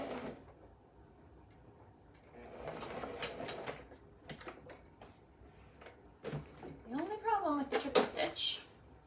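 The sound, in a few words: sewing machine running a triple stitch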